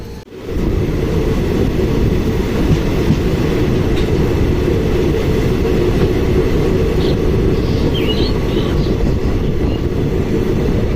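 A passenger train on the Sealdah–Hasimara route runs on the rails near the New Mal Junction area, making a loud, steady rumble with rhythmic rail clatter that holds throughout.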